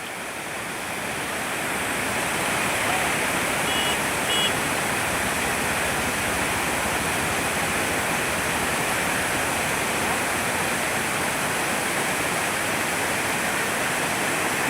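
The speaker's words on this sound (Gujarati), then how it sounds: "નદીમાં આવરો ફૂલ ચાલુ થઈ ગયું" A river in full flood at night roars with a steady, dense rush of water, loud and continuous throughout with no break.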